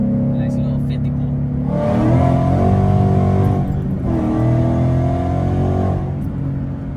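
A Ford Mustang S197 with upgraded rear lower control arms accelerates hard, its engine loud and close, revving upward in two strong pulls separated by a brief shift.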